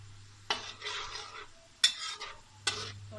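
Onions for yakhni pulao frying golden in a pan, with three sharp spoon scrapes and stirring knocks, each followed by a short burst of sizzling over a low steady hum.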